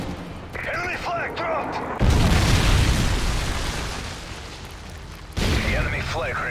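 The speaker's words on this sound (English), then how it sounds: "Predator missile inbound." A Predator missile strikes in the video game Call of Duty: Modern Warfare 3 during Capture The Flag, a heavy booming explosion with rumbling aftermath amid game announcer voice lines and electronic tones.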